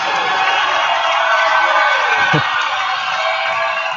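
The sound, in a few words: basketball crowd cheering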